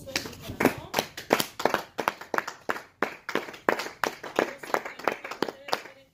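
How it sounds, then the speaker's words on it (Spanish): A church congregation claps together in a steady, even rhythm of sharp hand claps, with voices speaking over the applause. "vamos a dar un aplauso en esta mañana"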